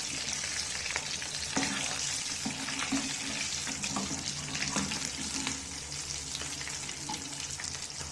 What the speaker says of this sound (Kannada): ರೋಲು ಗೋಲ್ಡನ್ ಬ್ರೌನ್ ಬರೋವರೆಗೂ ನೀವು ಡೀಪ್ ಫ್ರೈ ಮಾಡ್ಕೋಬೇಕು.